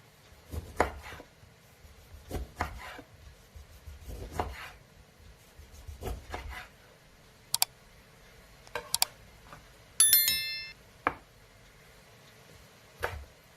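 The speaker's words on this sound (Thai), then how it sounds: "มะนาวหั่นแว่นวันนี้ใช้เลมอนนะคะ" Widely spaced knife cuts slicing a lemon into rounds thud onto a wooden board, each a soft chop, with a few sharp clicks and a brief metallic ring among them.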